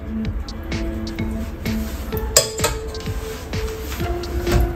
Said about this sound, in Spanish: Ponemos la sartén de nuevo al fuego.